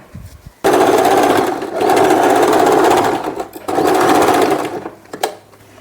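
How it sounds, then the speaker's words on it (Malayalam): A sewing machine runs in two long bursts of steady, rapid stitching, broken by a short pause, as it tacks down a folded edge while sewing a silk pattu pavada with a long blouse. The stitching is close and loud, with no talk. "ഇവിടെ ഇങ്ങനെ ഒന്ന് പതിച്ച് തയ്ച്ചു കൊടുക്കാം"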